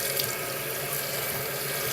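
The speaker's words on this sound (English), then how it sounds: "as I have the water running directly into this" Tap water streams steadily into a Keurig coffee maker during cleaning, a continuous, close, full-bodied rushing splash with no pauses and no voices.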